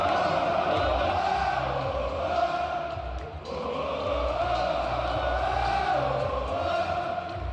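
A large arena crowd at AEW All Out wrestling sings and chants along in unison to returning entrance music, a loud, sustained roar of voices with melodic swells, dipping briefly midway before surging again.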